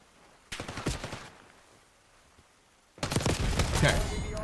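Gunfire from the Black Ops 6 video game in ranked play: a short burst of rapid shots, a pause, then a louder, sustained volley of automatic fire.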